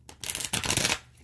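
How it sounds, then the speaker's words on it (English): A deck of tarot cards gets one quick, close riffle shuffle during a love reading: a dense, crisp burst of flicking card edges lasting under a second, with no voices. "Shuffle one more time."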